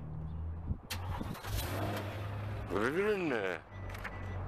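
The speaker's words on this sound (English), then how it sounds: "You're doing this, you should have your motor started." A Mercedes-AMG car engine starts up in the engine bay, with a short crank, then an idle and a rising whine that settles back, heard up close.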